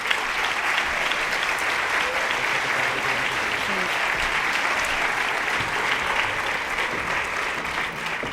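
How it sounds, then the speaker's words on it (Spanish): Sustained audience applause greeting two speakers at a social media conference event in Spain, an even, continuous wash of clapping from a large crowd throughout. "Un aplauso para los dos"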